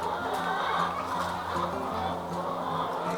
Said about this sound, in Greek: Οι κότες είναι Ίσα Μπράουν, είναι μια ράτσα αγγλική